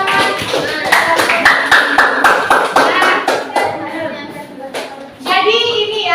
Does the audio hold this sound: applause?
yes